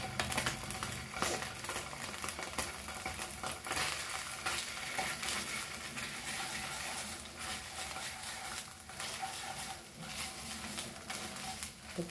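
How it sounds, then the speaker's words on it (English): Ginger garlic paste hits a hot pan for Goan-style masoor dal, giving a dense, continuous crackling sizzle with stirring scrapes, close and steady throughout with no talk. "Now as the pan is hot, we'll also add a ginger garlic paste to this."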